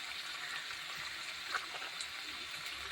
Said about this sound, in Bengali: এখন মশলাটা কষাই, মশলাটা ভালোভাবে কষাই করে যতক্ষণে কাঁচা গন্ধ না যাবে